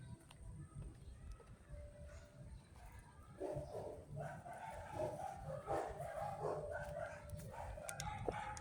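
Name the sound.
dogs barking behind the neighbouring fence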